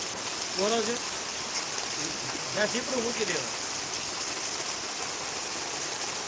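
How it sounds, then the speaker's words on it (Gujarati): Heavy rain driven by wind during a monsoon storm in a village, a steady dense hiss of falling water with no letup, while someone talks over it intermittently. "આજ તો બહુ અતિથી અતિ ભારે વરસાદ છે કારણ કે પવન સાથે છે અને વરસાદે સાથે છે"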